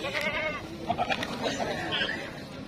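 Goats bleating at a livestock market, several wavering bleats from animals close by over busy market chatter and crowd noise.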